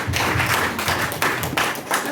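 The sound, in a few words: audience applause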